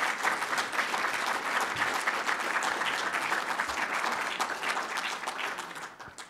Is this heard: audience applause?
yes